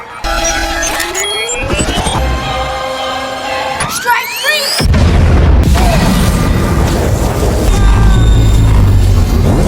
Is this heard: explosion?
yes